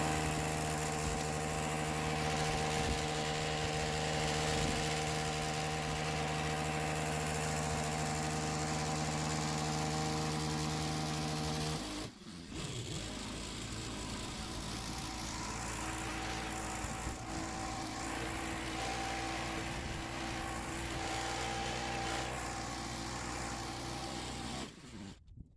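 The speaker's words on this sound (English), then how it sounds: "That little tiller made short work of that." A small garden tiller churns leaf compost into soil, its motor droning loud and steady throughout with a brief dip midway before resuming, no talking over it.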